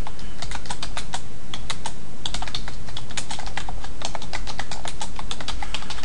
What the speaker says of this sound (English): And just keep typing as much information as you want there.